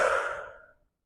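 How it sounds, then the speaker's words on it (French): A single strong, breathy exhale during a relaxation breathing exercise, loud at first and trailing off smoothly over under a second, with no talking. "Puis soufflez fortement."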